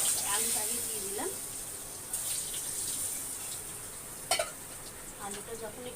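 Potatoes fry in oil in a pan for a home-cooked raw plantain curry, a steady faint sizzle with occasional stirring clinks while a person talks over it.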